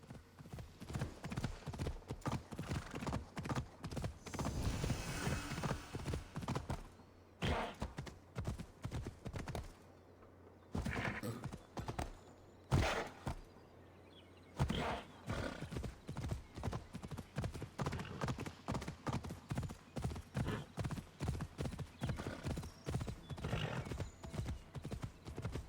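Horse hooves clip-clop steadily while riding in Assassin's Creed Odyssey, a close, rhythmic trot that pauses twice briefly with a soft whinny, then resumes at an even pace.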